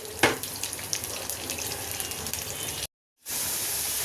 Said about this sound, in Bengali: এটাকে আমি ডুবো তেলে ভাজতেছি।